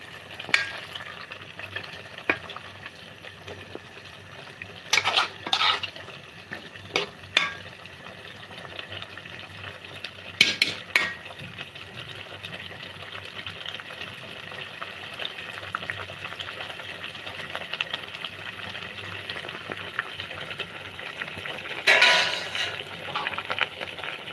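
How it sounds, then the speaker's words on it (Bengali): Drumstick leaves being sautéed in a pan make a continuous low frying hiss with scattered louder stirring scrapes and clatters, close by and without talk. "এই যে দেখুন কষিয়ে এখন রান্না শুরু করে দিয়েছে"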